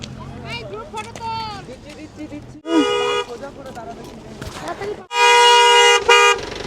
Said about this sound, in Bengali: বাপরে কি হর্ন দিচ্ছে